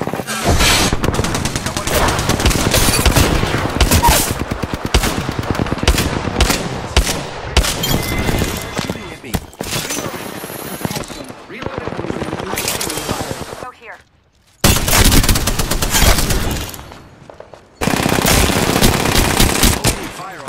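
Rapid automatic gunfire in the video game Apex Legends, long loud close bursts of shots with brief pauses and sharp restarts, under occasional talk.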